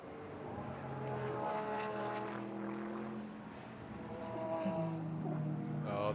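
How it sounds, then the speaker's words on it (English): GT3 race cars pass on the Motegi circuit, their engines rising and falling in pitch as they sweep by, heard at a moderate distance. "Oh, the very different engine notes."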